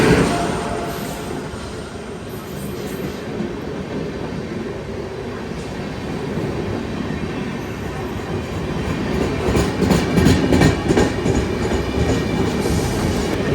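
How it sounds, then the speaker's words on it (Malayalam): An express train running from Jammu Tawi to Kolkata passes close by with a steady rumble, rhythmic wheel clatter and rail squeal that grow louder and busier toward the end. "ജമ്മു താവിന്ന് വെസ്റ്റ് ബംഗാളിൽ കൊൽക്കട്ടയ്ക്ക് പോകുന്ന ഒരു എക്സ്പ്രസ് ട്രെയിനാണ് ഈ വരുന്നത്."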